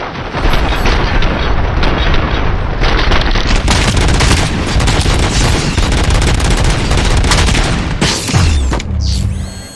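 Dense, loud gunfire in the RoboCop: Rogue City shooter: rapid bursts and booms run almost without pause, mixed with mechanical clatter, before cutting off near the end.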